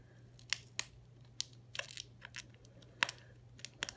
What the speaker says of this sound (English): gotta cut this tape